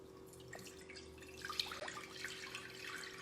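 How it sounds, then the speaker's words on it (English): Water runs from a tap into a dish holding Play-Doh, rice, a Peep and jelly beans, a steady close splashing trickle with a few drips and no talking. "Fill our dish with water."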